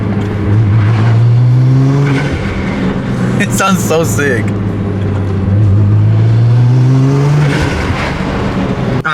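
A Nissan GT-R accelerates hard from inside, its engine note climbing in pitch, dropping on a shift and rising again, with turbo whoosh over the engine and a person talking briefly.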